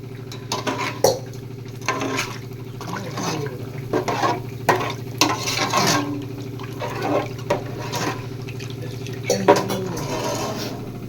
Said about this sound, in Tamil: ஊற்றிட்டு கலந்து விட்டுக்கலாம்